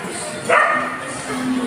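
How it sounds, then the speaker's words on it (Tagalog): A dog barks once from a loudspeaker, a short yelping bark standing out near the mic over room noise. "tapos may narinig akong aso"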